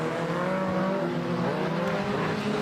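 Stock cars racing on an oval track, several engines droning and revving together at close range with steady harmonic whine and some tire noise, loud and continuous throughout.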